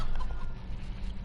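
Short clucking and fowl calls from a rooster among chickens in the Farming Simulator video game, heard close over a low rumbling background.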